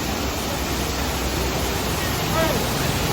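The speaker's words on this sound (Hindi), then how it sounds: "ये देखो बहुत ऊपर से वाटरफॉल आ रहा है" Steady, broadband roar of a monsoon waterfall falling from high up near Matheran, constant and fairly loud, filling the whole clip without pause.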